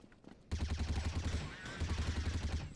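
Rapid automatic gunfire in the video game Counter-Strike, a loud close burst of evenly spaced shots with a brief pause near the middle before firing resumes.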